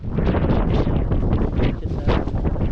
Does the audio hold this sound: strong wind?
yes